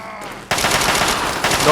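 Rapid automatic gunfire from the video game Fallout 3 on very hard difficulty bursts in after a short quieter lead-in, a dense, loud rattle of overlapping shots that continues to the end.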